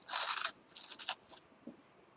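Sweet corn puff snack from Taiwan being crunched, a few sharp close crunching bites followed by fainter chewing crackles, with no talking.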